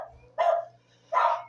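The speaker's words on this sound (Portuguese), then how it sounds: "Ah, esse cachorro do vizinho, gente." A neighbour's dog barks twice, the two sharp barks spaced about a second apart, moderately loud and slightly distant over a low steady hum.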